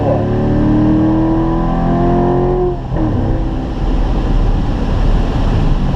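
A Corvette on the race track at a Spring Mountain driving school accelerates hard with a loud, close engine roar that climbs in pitch, then shifts and keeps pulling under steady wind and road noise.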